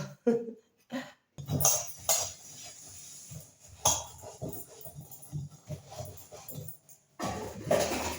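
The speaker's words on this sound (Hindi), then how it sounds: "चलो माँजती हूँ मैं बर्तनों को, धुलती हूँ इनको" Steel dishes and utensils are scrubbed and washed by hand at home, with repeated clinks, clatters and scraping in uneven bursts, close and moderately loud, separated by short pauses.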